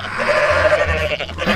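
A single loud, wavering goat scream from the video game Goat Simulator, drawn out and nasal, close up and alone.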